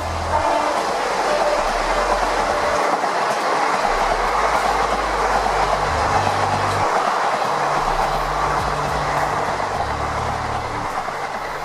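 A passenger train running along the rails as a sound effect in a Bengali detective audio drama, a loud continuous rumble with rhythmic clickety-clack of wheels over rail joints and no talking.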